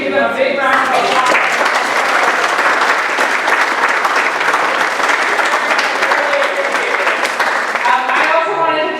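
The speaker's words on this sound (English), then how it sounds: "I think you give a big round of applause." An audience gives a loud, sustained round of applause at an evening program event, dense clapping from many hands holding steady for several seconds, then trailing off at the end.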